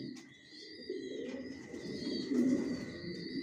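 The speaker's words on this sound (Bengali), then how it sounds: "কোয়ালিটি সম্পন্ন কবুতর পালি" Homing racing pigeons coo softly inside a loft, low murmuring calls rising and falling over a faint steady background hum.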